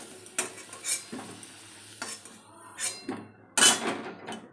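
Onions frying in a pan with intermittent stirring and scraping strokes over a soft sizzle, close by, with occasional louder utensil knocks.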